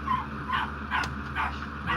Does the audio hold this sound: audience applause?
no